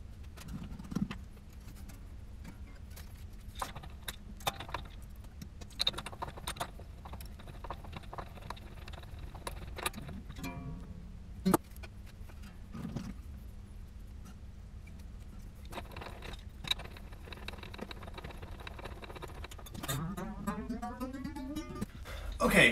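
Steel strings are put onto an acoustic guitar in sped-up footage, with rapid clicks, taps and jangling, plus occasional brief plucked string sounds and tuning-peg winding, all fairly faint and close.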